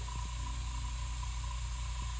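Steady aerosol spray hiss as purple paint is sprayed onto a garage kit figure, a continuous close, even rush of air with no breaks or voices.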